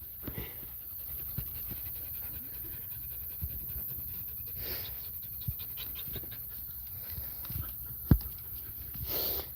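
Rescue dogs resting on a porch pant steadily and close by, a quick rhythmic breathing that runs through the whole stretch, with a few soft clicks and a sharp knock near the end.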